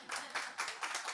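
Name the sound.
audience clapping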